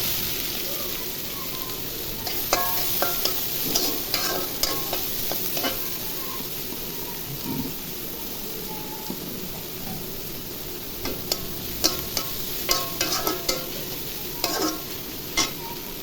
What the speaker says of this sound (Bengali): ভাজা হয়ে গেছে, এখন পেঁয়াজ কুচি দিব।